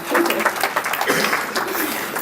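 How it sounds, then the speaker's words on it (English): A brief, fairly loud burst of audience applause at a township morning program, a dense wash of clapping with some crowd murmur mixed in. "That does deserve a round of applause"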